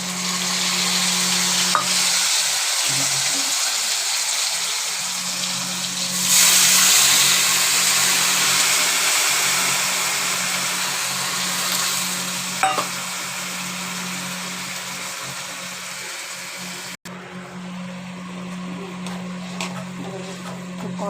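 Spices sizzle steadily in hot oil with already-fried potatoes while being stirred, a continuous frying hiss with scraping stir strokes that swells briefly partway through and runs without any talk.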